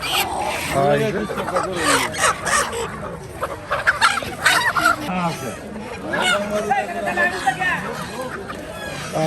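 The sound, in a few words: native red roosters and ducks at a poultry market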